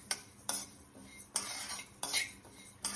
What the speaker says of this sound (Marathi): मूग डाळ देखील आपल्याला छान अशी सोनेरी रंगावर परतून घ्यायचे